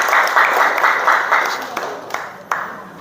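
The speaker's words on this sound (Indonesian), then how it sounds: "Beri tepuk tangan kepada Hermagita." A classroom of students claps together after a student's reflection. Brisk applause comes in quick, even bursts, then thins to a few scattered claps as it fades over about three seconds.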